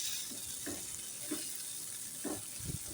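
Sliced bitter gourd fries with onion and tomato in a pan, a steady faint sizzle under occasional soft scrapes of a spoon stirring the mixture, close and without speech.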